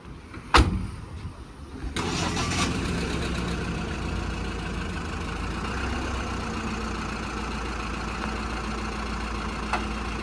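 A sharp click, then a pickup truck engine cranks and catches around two seconds in, settling into a steady low idle for the rest.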